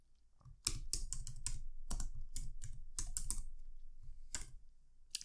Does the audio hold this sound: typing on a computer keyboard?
yes